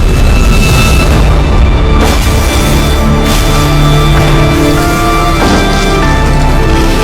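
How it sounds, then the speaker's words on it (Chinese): A grenade thrown into a crate of grenades explodes in a film scene, a loud, sustained roaring blast with deep rumbling booms that fill the whole clip. "他直接将手雷扔进了手雷箱，所有悍匪赶紧逃命"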